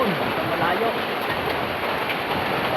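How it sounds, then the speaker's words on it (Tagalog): Rain falls steadily outdoors in a continuous, even hiss that holds at the same level throughout, with no breaks or distinct drops standing out. "baka titigil pa ang ulan"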